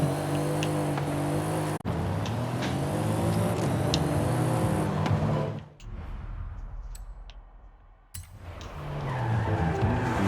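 A tuned Mercedes AMG GT Black Series in Forza Horizon 5 roars at high revs with tires squealing through a skid, the engine note briefly dropping away near the middle before climbing again.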